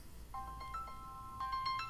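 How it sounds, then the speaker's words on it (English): A mobile phone rings with a tonal electronic ringtone, a few short repeated bursts that build toward the end, fairly quiet with no talking over it. "Freaking listen to my phone ring."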